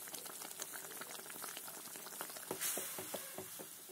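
Chicken masala with turmeric bubbles and sizzles in a pan while being stirred for chicken kosa. A soft, steady frying hiss carries light scraping stirs, all fairly quiet.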